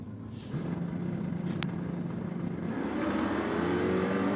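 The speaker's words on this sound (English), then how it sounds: "Pat Furiolo out there now in the Austral Steel Holden HQ 1-tonner with the party platform on the back of it" Holden HQ one-tonner with a party platform on the back and a 350 Chev V8 at a drag race meet, its engine note swelling steadily and loud under a growing high-pitched whine, with no talk.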